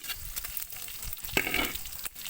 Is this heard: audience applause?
no